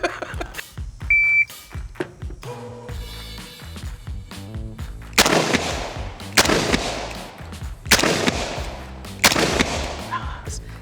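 Revolver fired at steel targets on a range, three loud sharp shots in steady succession with ringing, over a bed of tonal background music and beeps.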